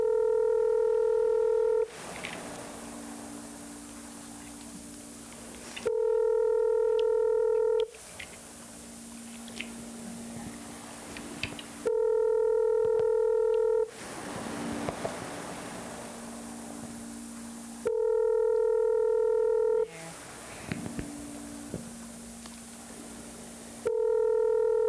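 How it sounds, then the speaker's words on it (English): A telephone ringback tone repeats in long steady bursts, about every six seconds, with noisy hiss and faint rustling in the gaps between rings. "Waiting for the phone to answer it."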